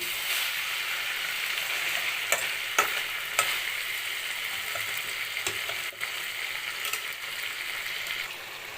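Onions and chicken frying in a pan give a steady, loud sizzle, with occasional spoon scrapes and knocks as the mix is turned over now and then.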